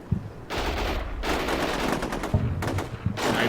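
Sustained bursts of automatic gunfire from the Combat Mission Shock Force 2 war game, with Canadian troops assaulting an insurgent base; dense rattling volleys broken by brief pauses, loud and continuous throughout.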